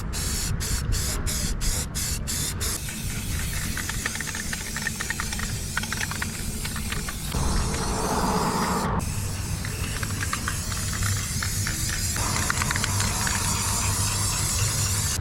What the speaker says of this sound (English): Let's start just painting.